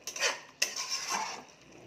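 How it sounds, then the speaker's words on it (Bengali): Vegetables being stirred in a pan for paneer posto, a spoon scraping and clinking against the metal in a few quick close strokes with faint sizzling underneath, and no one speaking. "আমি আবার একটু নাড়া চাড়া দিচ্ছি, ভালো করে মিশিয়ে দিচ্ছি"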